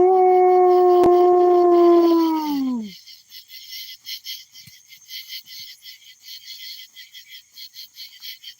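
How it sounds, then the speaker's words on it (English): Several loud, drawn-out howls rise together from an open cornfield at night, a chorus of sustained wails that breaks off after about three seconds, leaving a steady pulsing of night insects and faint rustling. "There's howls all around me."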